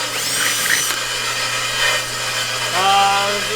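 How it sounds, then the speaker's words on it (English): A power drill bores out rivets on a BMW E36 drift car, a close, loud whining spin that rises and shifts in pitch as the bit bites into the metal over a few seconds. "we're trying to drill this out really quick just so we can finish putting our overs back on"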